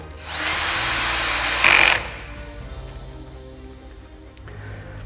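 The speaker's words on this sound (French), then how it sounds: "Je n'ai plus qu'à la visser. Donc, c'est parti. Petite séance de vissage." A power screwdriver drives a screw into a wooden model-railway module frame: one loud, close, steady whir of about a second and a half that rises at the end as the screw seats, followed by quieter handling noise, with no talking.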